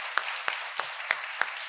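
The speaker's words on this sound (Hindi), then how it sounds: "तो फिर एक बार जोरदार अपने लिए तालियां बजाइए।" A few scattered hand claps from a seminar audience ring out, about half a dozen separate sharp strikes spaced irregularly. They sound faint and thin rather than like full applause.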